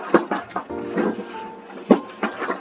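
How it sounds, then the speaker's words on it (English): A pet dog whimpering and whining indoors, several short high-pitched cries close by in a quiet room, with faint background hum. "That was my dog."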